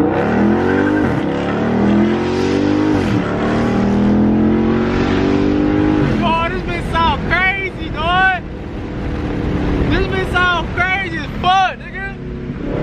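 Dodge Charger Scat Pack V8 fitted with a JLT cold air intake, revving hard with rising and falling throttle sweeps, loud and close, with excited voices talking over it.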